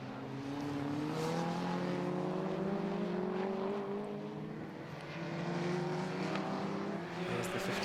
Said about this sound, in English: There's the 58 car of Scott then